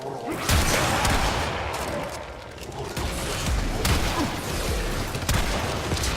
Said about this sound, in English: Tigris Prime is a shotgun for you